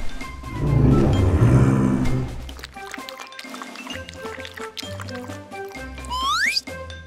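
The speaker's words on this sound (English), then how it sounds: "T-Rex is walking to the pond to drink some water." Water sloshes and laps loudly at first, followed by scattered drips and splashes, with a rising whistle-like tone near the end.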